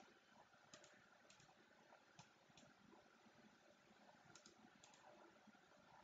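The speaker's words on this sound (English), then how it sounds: "sorry if you guys hear a lot of clicking" Computer keyboard and mouse clicking during a Minecraft session: quiet, scattered clicks and key taps over a faint steady background hiss, with no talking.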